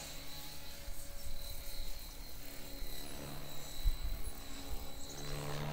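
Oxy 4 Max RC helicopter fitted with a new tail upgrade kit, its rotors whirring in a steady, fairly close drone with a rasping buzz that holds at an even level throughout.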